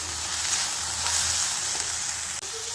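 Bread with chilli powder roasting in a hot pan gives a steady, close, loud sizzle with faint scraping of stirring throughout, ending in a brief clunk.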